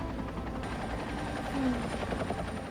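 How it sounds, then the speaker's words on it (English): A helicopter flies with a constant whirring rotor drone, steady and fairly close, filling the clip without a break. "Oh, they're going in a helicopter again."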